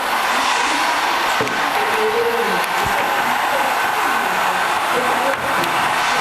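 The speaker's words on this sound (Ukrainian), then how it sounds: "ще дам зараз один фен." A hair dryer blows continuously at close range during a classroom art lesson, drying fabric, a steady loud whoosh with faint background activity beneath it.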